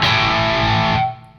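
An electric guitar runs through a KOR Eden Drive overdrive pedal in modern mode, with drive and voice at maximum and level and tone at half. A single loud, saturated chord rings steadily, then is cut off abruptly.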